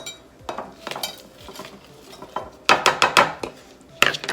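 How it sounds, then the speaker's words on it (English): Peeled, deveined shrimp with tails on going into a pan of garlic and parsley, with a series of sharp spoon clinks and metallic scrapes against the cookware, bunched in quick bursts and fairly close. "Now to this, I'm going to add my shrimp."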